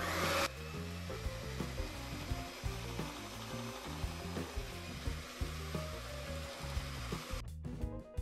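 Electric hand mixer beaters whirring through key lime pie filling with gelatin added, a close, fairly quiet steady motor hum with irregular knocking of the beaters against the bowl, cutting off near the end.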